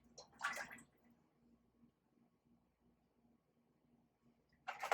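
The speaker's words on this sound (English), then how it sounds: "I'm about to add some of my oil before I get my flour together." Cooking oil poured into a hot pot before frying chicken gives a short hissing, splashing burst near the start and another at the end, with quiet in between.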